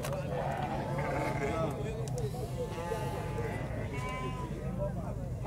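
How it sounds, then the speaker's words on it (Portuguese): Young goats bleat repeatedly at a busy open-air livestock market in northeastern Brazil, their wavering calls rising in several bursts amid constant crowd chatter and nearby talking. "Aqui também tem uns cabritinhos."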